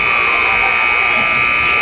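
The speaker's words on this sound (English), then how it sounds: "Let's get a replay of that buzzer real quick." A long, steady electronic buzzer sounds at a high school volleyball match, Central at Putnam, droning loud and unbroken from start to end over faint gym noise.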